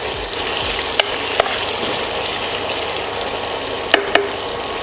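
Onions sizzle loudly in a hot pan with a pinch of salt, a steady close-up crackling hiss broken by a few sharp knocks of the spoon against the pan.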